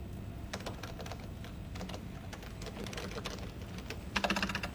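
Keys on a computer keyboard rattle in quick irregular bursts of clicks, faint and steady, with a denser flurry of taps near the end, part of a TV drama's soundtrack.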